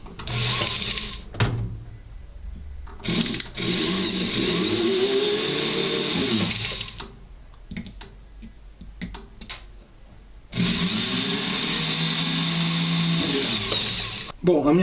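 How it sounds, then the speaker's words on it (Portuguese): A 1 mm twist drill bit bores through a metal plate at a jeweller's bench, the small motor whirring in two sustained bursts with a quieter pause between them, up close and loud. "Agora eu pego aqui a minha broca espiral de 1 milímetro"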